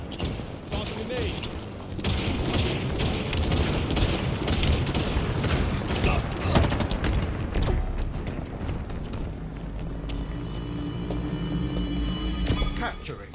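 A grenade detonates during a Halo Infinite Total Control match, a dull boom within steady rattling gunfire and weapon clatter, with announcer callouts and player voices over it.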